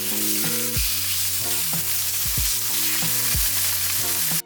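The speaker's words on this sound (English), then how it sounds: "try not to crowd the pan, and then just let that thing sizzle" Steady loud sizzling of chicken frying in a hot cast iron pan, with a low droning hum and a few louder pops and thumps throughout.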